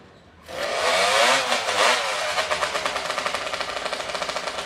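Racing chainsaws fitted with 250cc Honda engines fire up and warm up at a timbersports championship: a sudden loud roar that settles into a steady, fast-pulsing engine drone close by, with no talk over it.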